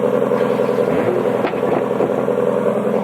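A Ford Shelby GT350 Mustang engine runs steadily on a warm start, a loud close low rumble with a brief rise in revs midway, continuous throughout with no talking.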